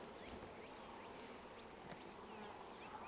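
A dense swarm of honeybees drones continuously during a hive installation, a steady close buzz with individual bees zipping past over the constant hum.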